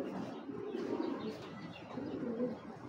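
A red-eyed Jira male pigeon coos softly at close range, giving low murmuring, rolling calls against light background noise.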